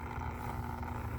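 An Intex/Bestway Flowclear pool filter pump running steadily, a continuous low motor hum with a faint whir and a mild watery churn.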